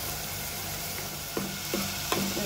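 Ginger garlic paste frying in a pan beside small fish curry cooking, a steady close sizzle with a few soft stirring scrapes near the end.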